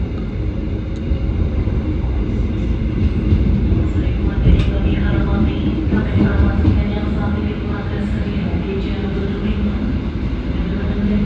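The KA Jayakarta passenger train pulls out of Mojokerto station, a steady low rumble of wheels and carriages rolling close by for several seconds, with faint clanks and a voice now and then.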